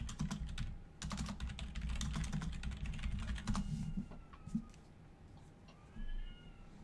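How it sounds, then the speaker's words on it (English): A cat yowls in a drawn-out caterwaul from upstairs, faint and distant, heard beneath close, busy computer keyboard typing indoors. "my cat upstairs is apparently having a caterwaul, literally so."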